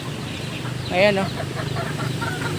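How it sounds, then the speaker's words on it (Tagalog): Farm chickens cluck briefly in a short burst near the middle, moderately close, under a voice speaking over steady background noise. "Ganyan ang mga manok na yan, oh."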